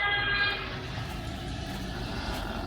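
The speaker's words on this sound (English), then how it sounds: "And a train." A train rumbling along, with a horn-like tone at the start fading into a continuous low roar of rail noise, fairly loud and steady with no talking.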